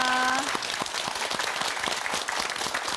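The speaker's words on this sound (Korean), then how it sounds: "여러분 큰 박수 부탁드립니다." A TV talk show studio audience breaks into steady applause, a brief tone fading near the start, then sustained clapping from many people at moderate loudness.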